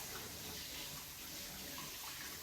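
Dirty water from an X3 mop trickles and splashes steadily into its collection tank, a continuous soft watery hiss heard close up with no pauses.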